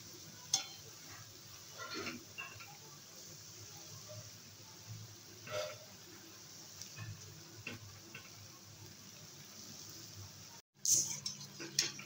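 Palm fruit fritters frying in hot oil for a sweet milk dessert give a soft, steady sizzle with scattered clicks and ticks, cut by a brief gap near the end before a louder burst.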